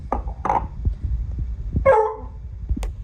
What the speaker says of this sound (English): that's why Rosie's barking, because she is so ready to eat this